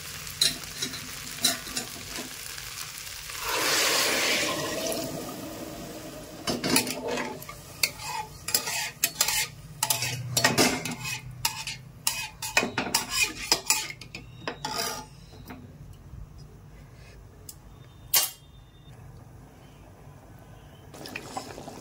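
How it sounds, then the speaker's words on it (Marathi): Khichdi bubbling and being stirred in a pot, with scraping spoon strokes, clinks against metal and a simmering hiss, close and irregular throughout. "खिचडी छान उकळते आहे"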